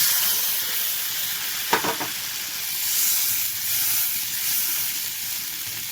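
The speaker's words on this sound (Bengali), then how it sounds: "তো দেখো আমার তরকারি ঝোলটা ফুটছে" Curry broth bubbles and boils in a pan after water is added, a steady close sizzling hiss with a brief clink of utensil partway through.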